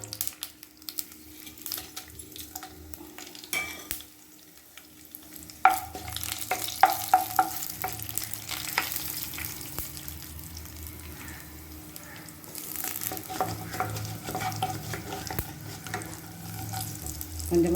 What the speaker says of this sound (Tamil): எண்ணெய் காஞ்சிட்டு இப்போ நம்ம கடுகு உளுத்தம் பருப்பு,